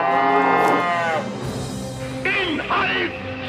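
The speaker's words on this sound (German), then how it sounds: "Die Kuh ist gleich da." A cow moos loudly in the South Park video game, one long drawn-out low call followed by shorter grunting moos, with a German-speaking voice talking over parts of it.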